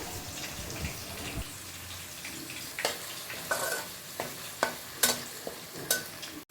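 Onions, green chillies and curry leaves frying and being stirred in a pan for a Telugu natu kodi chicken curry: a soft steady sizzle broken by a series of sharp scraping clinks from the spoon against the pan.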